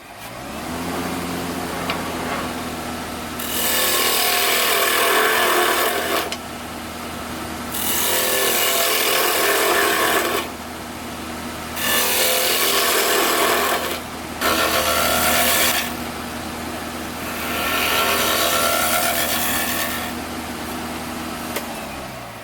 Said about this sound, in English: I'm going to essentially carve out a hemisphere using a bowl gouge